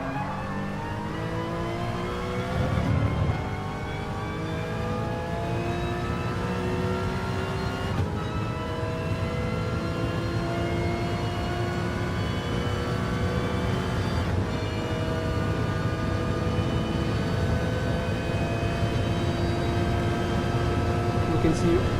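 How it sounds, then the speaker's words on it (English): Onboard a Porsche Cayman GT4-spec race car lapping Fuji Speedway in GT Sport, the engine drones loud and constant, its pitch climbing steadily through each gear with sharp shift drops at intervals. "I'm going to give you guys an onboard lap of this Porsche Cayman GR4 spec car"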